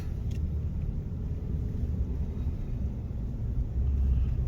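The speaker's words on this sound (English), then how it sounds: "Now I'm just driving normally, slow in the neighborhood, 30 miles an hour at the most." A 2017 Ram 1500 pickup with an oil pressure fault rolls slowly through a neighborhood, its engine and road noise a steady low rumble heard from inside the cab.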